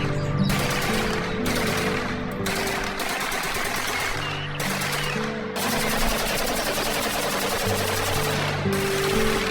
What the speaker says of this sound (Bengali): এরপর ডাকু শিয়াল সেই সিংহকে উদ্দেশ্য করে গুলি করতে শুরু করলো